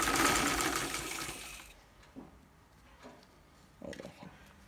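Sewing machine stitching a facing strip to the inside of a kameez neckline, a dense steady mechanical whir for almost two seconds that stops abruptly, followed by quiet room sound with a few faint handling noises.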